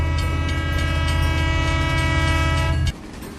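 Heard from inside a moving train, a loud sustained horn blares over the steady rumble of the carriage, then cuts off abruptly, leaving the quieter running noise.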